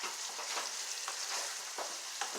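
Meat frying in a pan for burritos, a steady bright sizzle with small crackling pops throughout, close and fairly quiet with no talking.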